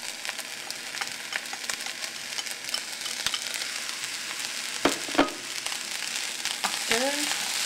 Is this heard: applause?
no